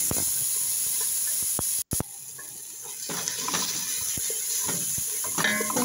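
Chopped onion and garlic frying in a pan, a close, steady hiss and sizzle broken by a few clicks and a short dropout, then swelling slightly as stirring continues without any voices.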